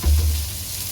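Dried fish (vaktya) fry in hot oil in a pan, giving a loud close sizzle with a brief low thump at the start and a steady frying hiss after it.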